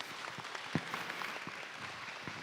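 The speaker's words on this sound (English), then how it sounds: "Ladies and gentlemen, please give a round of applause for this amazing panel." An audience at an ADHD and dyslexia awareness symposium applauds a panel, a faint, diffuse wash of clapping heard from a distance with no clear voices.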